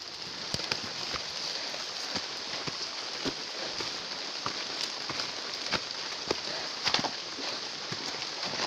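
Steady rain falls in a rural forest near fields and rice paddies, a constant close hiss with scattered sharper drops and occasional light knocks, no voices.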